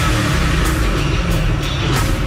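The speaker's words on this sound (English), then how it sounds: "That big, mean-sounding V8 roar." A Ford Mustang Shelby GT500's 650-horsepower V8 gives a loud, steady, dense exhaust roar and rumble, close by and unbroken throughout with no voices over it.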